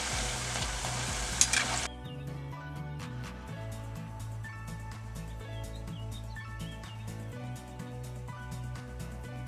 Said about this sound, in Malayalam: ഇതുപോലെ ഒന്ന് അങ്ങോട്ടും ഇങ്ങോട്ടും ഒക്കെ തിരിച്ചൊക്കെ ഇട്ട് കൊടുത്തിട്ട് ചെറിയൊരു ഗോൾഡൻ കളർ ആകുമ്പോൾ ഇത് നമുക്ക് കോരിയെടുക്കാം